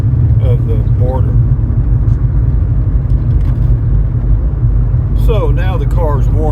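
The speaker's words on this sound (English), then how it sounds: "So now the car's warming up, the heater's getting warm." A car engine runs while warming up on a winter day, heard from inside the cabin as a heavy, steady low rumble, with someone talking over it.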